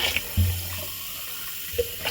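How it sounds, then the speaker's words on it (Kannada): Tap water runs into a vessel to cover vegetables for soaking, a short steady pour with faint clinks of the container at the start and end, with no voices. "ಒಂದು ಪಾತ್ರೆಯಲ್ಲಿ ತರಕಾರಿ ಮುಳುಗೋಷ್ಟು ನೀರು ಹಾಕಬೇಕು"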